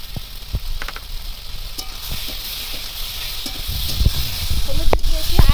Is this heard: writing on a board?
no